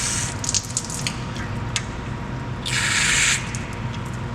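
Water bursts from the test cocks of a Watts 909 reduced pressure backflow assembly during flushing, heard as short hissing spurts followed by a steadier rush of spray lasting under a second, over a constant low background hum.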